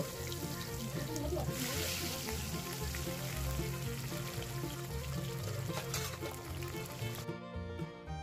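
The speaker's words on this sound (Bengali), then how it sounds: "সর্ষের তেল গরম করে নিয়ে মাছগুলোকে কিন্তু ভালো করে কড়াভাবে ভেজে তুলে নেব।" Pabda fish frying hard in hot mustard oil, a continuous bubbling sizzle that holds steady throughout, with music playing underneath.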